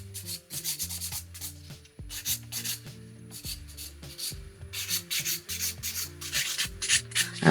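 Polygel nails are hand filed with a nail file, giving steady scratchy rasping strokes in short rhythmic bursts with brief pauses, close and clear over soft background music.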